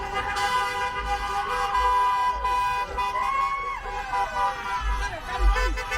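Car horns toot repeatedly amid a noisy street during a rainy prom-night celebration in Pago Pago, with engines, music and crowd noise blending into a loud, continuous din.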